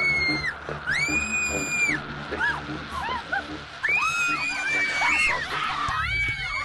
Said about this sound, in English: In this house of horrors, even adults shriek in terror.